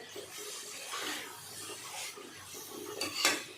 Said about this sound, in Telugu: తగినంత పసుపు వేసుకోవాలి. నేనైతే అరకు వేస్తున్నాను. ఇప్పుడు బాగా కలబెట్టాలి.